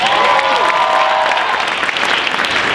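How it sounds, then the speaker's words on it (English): An audience at a school holiday concert breaks into loud, sustained applause, close and dense, with a few cheers and whistles near the start. "can I give a precursor applause for the kids who are about to perform?"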